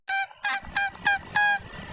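White ducks call nearby, a loud series of five nasal honking quacks in an uneven rhythm, with nothing else heard.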